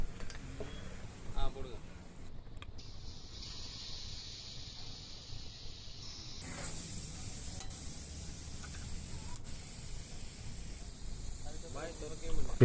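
Chopped tomatoes, about five, sauté in a pan, giving a soft continuous sizzle and hiss with occasional stirring scrapes, faint beneath a person talking.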